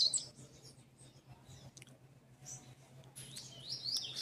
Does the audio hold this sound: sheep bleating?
no